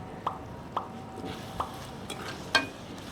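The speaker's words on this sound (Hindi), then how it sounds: "अब इस सारे मसाले को हिला देते हैं।" A spoon stirs spices for daal mash in a pot over low heat: a few distinct light scrapes and taps spaced about half a second apart, over a faint background hiss, close and fairly quiet.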